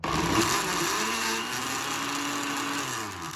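A countertop blender whirs steadily at high speed, blending a toasted marshmallow milkshake, a loud, continuous motor whine with no talking.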